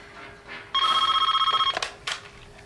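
A household telephone rings once in a single loud, rapidly trilling electronic burst lasting about a second, close by in a quiet room, followed by a couple of faint knocks.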